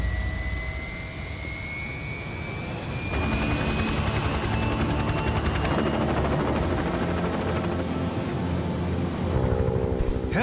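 A helicopter in flight over a gold mining operation, its steady engine and rotor noise loud and continuous throughout, swelling a little midway with no talk over it.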